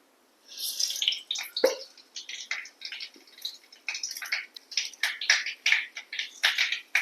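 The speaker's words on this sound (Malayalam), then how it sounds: "നമുക്ക് കടുക് ഇട്ട് കൊടുക്കുക." Mustard seeds crackle and pop in hot coconut oil as a South Indian thoran tempering begins, a quick irregular scatter of sharp snaps, fairly close, with no talk.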